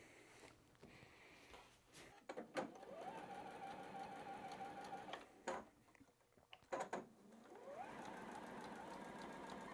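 A sewing machine stitches quilt binding from top edge to bottom, running in a steady whirring hum through several long sewing bursts broken by short pauses and clicks, close and fairly quiet.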